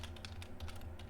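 Steady, quiet typing on a computer keyboard during a gaming session, a continuous patter of key clicks over a low background hum, with no talk.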